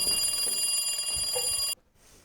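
A telephone bell rings steadily for nearly two seconds, a bright continuous trill in a stage play, then cuts off abruptly, leaving near silence.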